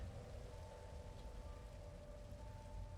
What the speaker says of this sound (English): You're getting rained on if you're here